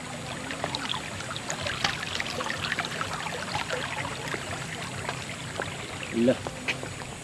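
Water rushes and splashes steadily around someone wading across a flooded stream, with a louder sloshing surge near the end.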